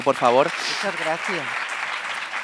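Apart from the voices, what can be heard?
audience applause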